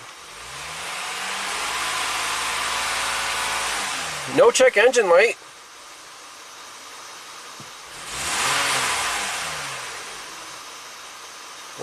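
A Toyota engine with a flashing check engine light idles, then revs in two rising and falling swells a few seconds apart. A short clicking rattle sounds between them, and a voice speaks nearby.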